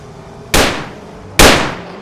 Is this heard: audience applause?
no